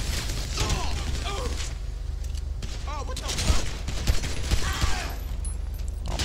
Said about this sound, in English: we're getting shot at from over here now